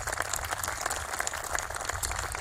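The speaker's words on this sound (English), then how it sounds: "Let's give her a big round of applause" Audience applause for a park board president at a Cleveland Metro Parks ball field unveiling, steady dense clapping from a crowd throughout, moderately distant and even in level.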